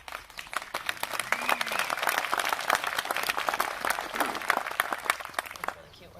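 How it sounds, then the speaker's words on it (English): A small audience at a community meeting claps steadily for about six seconds, a dense patter of individual hand claps that thins out toward the end, with a faint murmur of voices beneath. "It's really cute when the little kids clap for me too"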